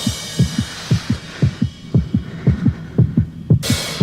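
A heavy throbbing heartbeat effect from a psychedelic 1968 album pulses in steady lub-dub pairs about twice a second, loud and close, ending in a sudden burst of bright noise.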